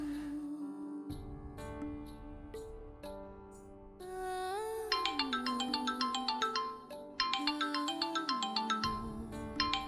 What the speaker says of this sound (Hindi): सार का फोन आ रहा है।